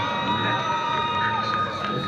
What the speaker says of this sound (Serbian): Pa publika navija.